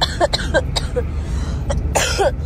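A few close, raspy coughs and throat clearings in short bursts, from a person in cold wind, with a steady low rumble of wind or background noise underneath.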